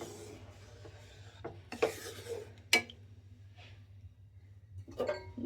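Koi fish curry with tomato and water is stirred in a pan, giving intermittent scraping and rubbing strokes with a few sharp clacks against the pan between quieter pauses; close, no talking.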